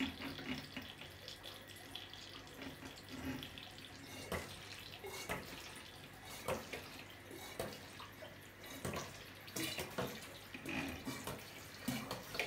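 Water trickles and splashes steadily as an aquarium bottom is siphoned, a faint continuous flow broken by small irregular gurgles and drips, with no talk.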